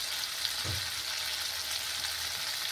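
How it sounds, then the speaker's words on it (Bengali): Spice masala sizzles in hot oil for a fish curry with potato and pointed gourd, a steady close frying hiss with a brief stir partway through. "মশলা আমার এখন ভালো করে কষানো হয়ে গেছে।"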